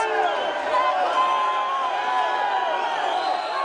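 Crowd at a city council session in a plenary chamber, booing and shouting in protest as a dense, loud, continuous mass of overlapping voices with no single speaker standing out.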